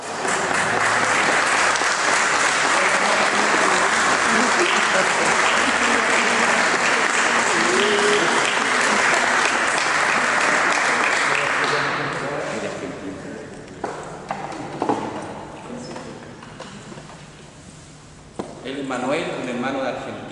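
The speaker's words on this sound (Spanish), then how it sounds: "Démosle un aplauso." Loud, dense applause from a concert audience fills the first twelve seconds, then tapers off to scattered claps and faint crowd murmur with a few isolated knocks.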